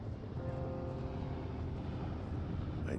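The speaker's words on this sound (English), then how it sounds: "There's the helicopter." A helicopter in the video game Firewatch makes a constant low whirring rumble, faint and distant, droning on steadily without a break and with no voices over it.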